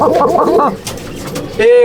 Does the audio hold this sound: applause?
no